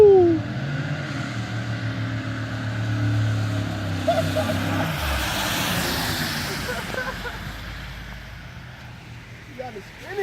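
A Pontiac Grand Prix GXP with Flowmaster exhaust revs loudly up front, its engine note rising and falling before fading under excited voices and crowd chatter for the rest of the clip.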